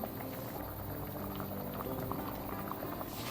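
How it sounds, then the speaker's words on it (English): Thrissur-style Kerala fish curry boils steadily in a mud pot, a dense, continuous, close bubbling and gurgling throughout. "The curry has come to a boil"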